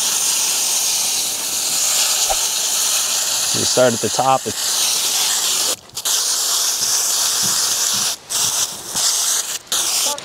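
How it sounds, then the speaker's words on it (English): A garden hose on spray setting blasts cool water in a continuous loud hiss, washing soil off pepper plant roots, briefly cutting out a few times, while a person speaks over it. "just using cool water and just the spray function on your hose"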